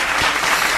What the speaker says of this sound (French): il mérite les applaudissements ce mec.